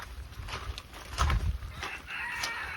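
Chickens in a rain-soaked English cottage garden in winter give short clucks and calls, with a louder burst midway, heard close over steady rain hiss and low background rumble.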